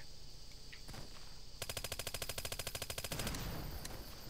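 A gun firing in a Half-Life game: a rapid, evenly spaced automatic burst of about a second and a half, loud and close, followed by a fading echo.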